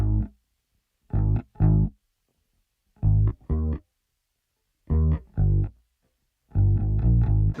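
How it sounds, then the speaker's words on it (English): A bass guitar, slightly out of tune and recorded DI straight into the desk, plays a short groove in separate bursts of two or three plucked notes with silent gaps between them, loud and dry, with no talking. "I had this little groove going on. This bass is out of tune"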